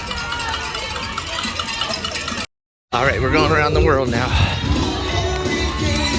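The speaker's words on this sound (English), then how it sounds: "there are a ton of people here cheering everybody on" Crowd cheering runners at Epcot during the Disney marathon: a dense, loud wash of shouts, cowbells and cheers around a passing runner, who speaks briefly over the noise, with a short dropout midway.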